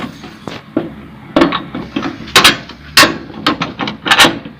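A bolt is slid into the pipe of a Kirloskar power tiller plough attachment, giving a series of sharp metallic knocks and scraping taps at an uneven rhythm, close up, with no talk.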